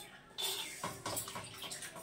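Water squeezed by hand from fenugreek leaves trickles and splashes into a kadhai in a few quiet, uneven bursts.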